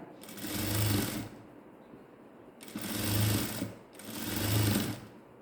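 Sewing machine stitching the seam of a ladies' straight pant, three bursts of rapid mechanical whirring separated by short pauses, close and fairly quiet.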